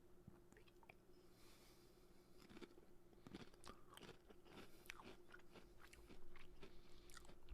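A plantain chip is bitten and chewed close up, with repeated crisp crunches in an irregular rhythm over a low steady hum, quiet overall, with no one speaking.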